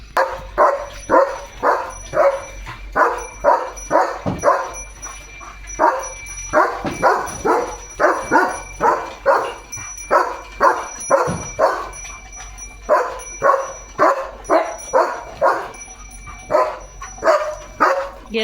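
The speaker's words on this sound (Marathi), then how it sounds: "तयार आहे पोजिशनमध्ये भुंकायला" A German Shepherd barks over and over in a fast, regular rhythm in green fields, loud and close, with a few brief pauses between runs of barks.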